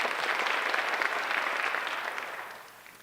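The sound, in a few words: audience applause at awards ceremony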